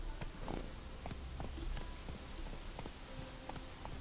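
Hooves of the horse Roach in The Witcher 3 video game, a faint, quick clip-clop rhythm of steps at a brisk pace, with no voices.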